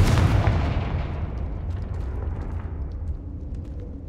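A Confringo fire spell from Hogwarts Legacy explodes in one loud, deep blast that rumbles and slowly decays over several seconds, with faint crackles trailing off and no voices.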